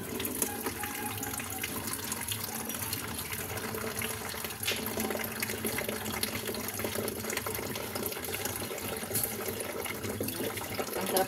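Water running steadily from a tap into a container as it fills, a continuous close gush with no talking.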